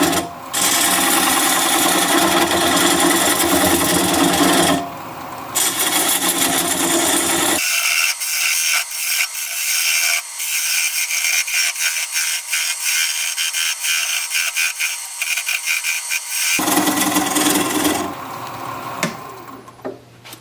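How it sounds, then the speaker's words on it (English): A 3/8 inch bowl gouge cuts away a tenon on a wood lathe spinning at about 600 RPM, giving a steady, loud rasping scrape that runs almost the whole time, its tone thinning and brightening midway before turning fuller again. "I'm going to grab a 3/8 inch bowl gouge and commence to removing that tenon."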